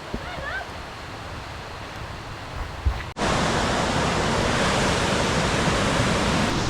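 A creek in Grand Teton National Park flows with a steady, loud rushing wash that begins abruptly partway through, after a quieter stretch of faint outdoor background, and then continues unbroken to the end.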